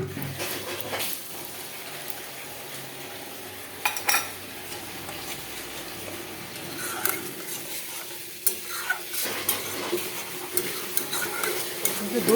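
Ground spice paste goes into a frying pan for matar paneer and is stirred. Oil sizzles continuously under a spoon scraping at an irregular pace, with a few clinks against the metal.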